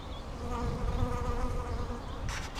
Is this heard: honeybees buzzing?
yes